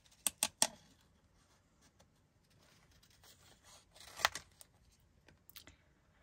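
Scissors snip around an angel sticker for card making, a few quick sharp cuts at the start, a faint crunch later, then soft paper rustles in a quiet room.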